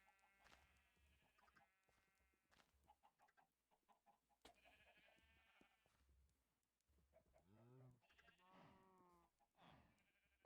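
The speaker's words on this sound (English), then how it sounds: "So many sheep that are just crawling out over stuff." Sheep bleating in the Minecraft video game on a server full of sheep and villagers, a few faint, separate bleats heard over quiet ambience with occasional soft game clicks.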